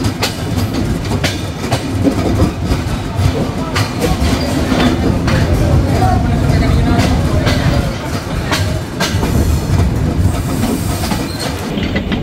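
Silk City Express pulling out of Ishwardi Bypass station, a loud, steady rumble of rolling railcars with rhythmic wheel clatter and occasional squeals, continuing unbroken throughout.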